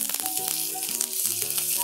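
Curry leaves hit hot oil with lightly reddened fried urad dal for a chana dal chutney, a brief burst of crackling sizzle lasting under two seconds with a tonal hum underneath.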